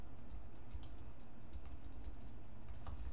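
Steady typing on a computer keyboard, rapid key clicks in a continuous run, close and fairly quiet over a low background hum, with no talking.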